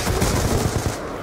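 Rapid automatic gunfire from the Call of Duty: Black Ops 2 video game, a brief dense burst of loud cracking shots in quick rhythm with no talk.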